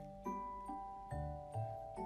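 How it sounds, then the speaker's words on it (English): A street vendor's cart gives off light metallic tinkles and ticks, struck in an irregular rhythm roughly every half second. The sound is faint and close, with a low rumble underneath. "It's the sound of street cart."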